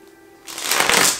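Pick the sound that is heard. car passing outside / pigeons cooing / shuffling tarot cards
shuffling tarot cards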